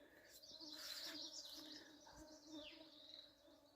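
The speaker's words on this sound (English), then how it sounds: "You guys hear the mosquitoes?" Mosquitoes swarm in a forest, a thin high buzzing whine that rises and falls close by. Insect and bird chirps come from the surroundings, with no talk.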